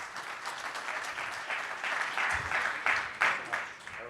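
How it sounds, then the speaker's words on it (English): Audience applause at a beverage industry conference as a cold brew coffee founder is called to the stage, a dense, steady wash of clapping throughout with a little voice mixed in. "Round of applause for Chris."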